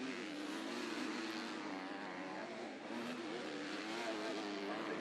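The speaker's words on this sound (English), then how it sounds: "Perfectly balanced the bike is as he goes into the corner, gets on the gas, rails around the outside, hooks 4th gear" A motocross bike in an MX2 race at the 2013 MXGP of Sweden roars steadily as the rider gets on the gas through a corner and shifts up, the engine note dense and continuous with crowd or track noise beneath.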